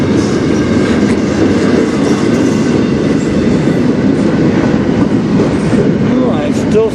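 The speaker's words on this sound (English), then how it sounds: "But that was the Every Child Matters locomotive." A Canadian National Every Child Matters locomotive passes close by in Sarnia, Ontario, with a steady loud rumble and clattering rail noise throughout, wheel squeal faintly rising near the end.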